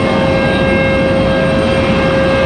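A WestJet airliner out of Calgary taxiing downhill at Raleigh-Durham International Airport, with a steady, loud jet engine drone and whine held evenly throughout, no voices.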